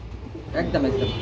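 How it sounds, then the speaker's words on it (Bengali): German Beauty Homer pigeons coo in a loft, a few soft throaty calls rising mid-clip over steady low background noise. "দেখেন জার্মানি বিউটি হুমা এবং ইনপুটের কবুতর"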